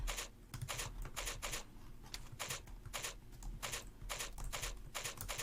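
Rapid keystrokes on a computer keyboard with no number pad, close and fairly quiet, coming in quick clattering bursts separated by brief pauses.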